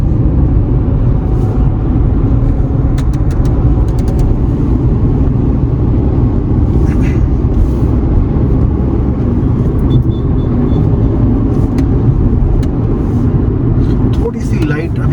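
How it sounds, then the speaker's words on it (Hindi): A small Renault car drives on a highway, filling the cabin with loud, steady engine and road rumble that stays even throughout. "अब थोड़ा सा इसको हम भगाने की कोशिश करेंगे गाड़ी।"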